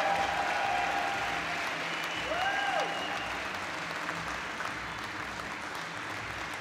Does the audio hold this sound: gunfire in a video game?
no